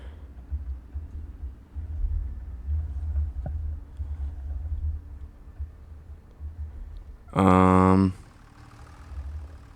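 A tractor engine in Farming Simulator 25 hums at a low idle inside the cab, fairly quiet and steady, briefly interrupted near the end by a loud, short tonal game sound.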